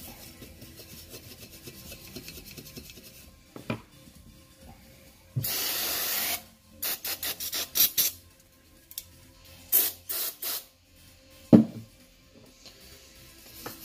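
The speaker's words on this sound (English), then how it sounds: "Take the wire brush and then scrub it a lot." A wire brush scrubs carbon build-up off the inlet of a Gen 5 supercharger in a series of short, close rasping strokes, with one longer burst near the middle and quieter gaps between strokes.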